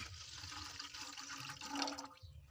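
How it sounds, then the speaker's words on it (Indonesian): A litre of fresh coconut milk is poured into a nonstick pan, a short, steady, soft liquid splash and gurgle close by, quiet and without talking. "kita tuang 1 liter santan segar ke dalam teflon"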